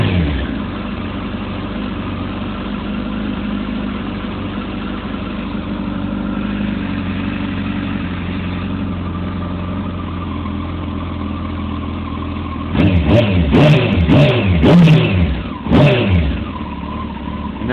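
A 2007 Kawasaki ZX10R motorcycle idling high after a cold start, a steady close engine drone, then a burst of several sharp throttle blips near the end.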